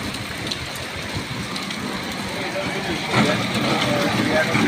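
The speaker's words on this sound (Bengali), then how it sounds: "চলতে আসছে অবিরাম বৃষ্টি" Continuous heavy rain pours over a street of low-lying shops where water is flooding in, a dense, unbroken hiss close up that swells slightly toward the end.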